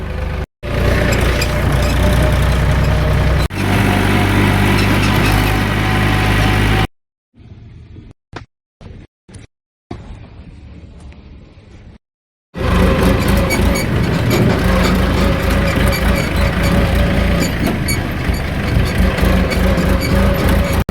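A tractor pulling a trolley on a farm road, its radiator out of water and overheating, drones loudly and steadily with a low engine rumble, drops to near silence with scattered knocks midway, then returns at full volume.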